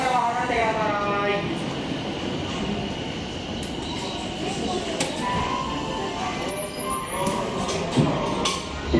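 A Tokyo Metro Fukutoshin Line subway train rumbles and squeals as it pulls into Shibuya Station, with a steady low roar, brake screech and an announcement voice over it.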